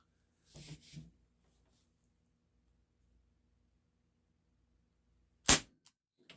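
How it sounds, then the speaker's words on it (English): A single sharp crack from a Beretta PX4 Storm .177 air pistol fired double action with lead pellets, loud and close in a quiet room, preceded by faint handling noises and followed by a brief click. "This time, I'll just go ahead and pull the first shot in double action."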